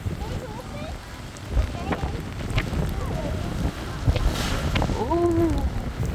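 Steady rain patters under gusty wind noise at a blowhole in Wollongong, Australia, with a few scattered voices and brief calls breaking through in the background.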